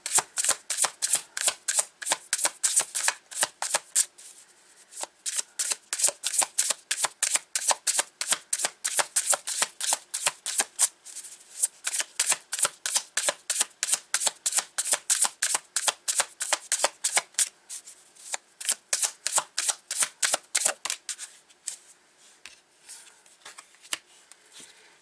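A tarot deck being riffle-shuffled over and over, rapid crisp flutters of cards in quick repeated bursts with brief pauses between, close and clear with no voices.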